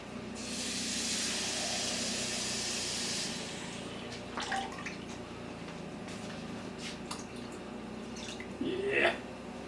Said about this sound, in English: Let me give it just a little more water.